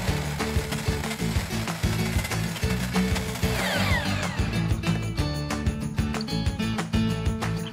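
A power tool cuts a chamfer along the edge of a wooden fence board. It makes a loud, close, continuous buzzing, rasping grind with rapid ticking texture and a slight change in tone partway through. No one speaks.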